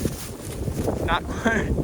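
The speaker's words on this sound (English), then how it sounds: "Got really windy all of a sudden." Steady wind rushes and buffets across the microphone outdoors in Vermont in a continuous broadband roar, with faint brief tonal sounds poking through.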